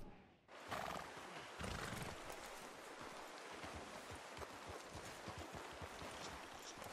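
A horse in the video game Red Dead Redemption 2 whinnies loudly and close, followed by a steady run of galloping hoofbeats on open ground.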